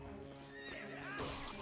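Epona, Link's horse in Zelda: Twilight Princess HD, gives a clear whinnying neigh, a quavering high call rising over steady game background sound with no talking.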